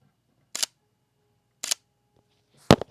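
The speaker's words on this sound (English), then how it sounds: "let's see how the Sony's shutter sounds at 1/125th" Sony camera shutter firing at 1/125th, three separate crisp mechanical clicks spaced about a second apart, close and alone in a quiet room.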